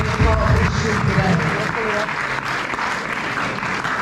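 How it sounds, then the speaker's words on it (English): Attendees at a Pan-African Students Association launch give themselves a round of applause, a short burst of steady clapping mixed with murmuring voices. "give yourselves a round of applause for being here and being part of history today"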